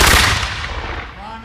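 A musket volley fired on command at a Veterans Day ceremony, one loud close crack with a rumbling echo that fades away over a second and a half.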